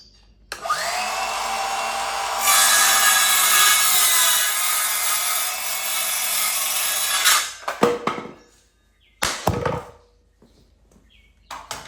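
A power saw cuts through wood for a workbench build, running loud and steady for about seven seconds, followed by a few clattering knocks and a brief second burst.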